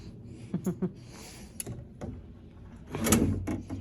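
A drawer in a hotel suite with two double beds slides and knocks open: a few close wooden clicks and thumps, then a louder scraping rumble as it is pulled out.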